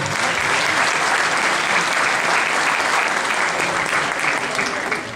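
An award-ceremony audience in Çiğli, İzmir breaks into loud, dense applause, a steady wash of many hands clapping that holds for several seconds and fades slightly at the end.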